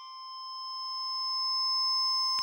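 A randomized Omnisphere soundscape patch with a filter, a pure, steady sustained tone slowly swelling louder, heard alone and close.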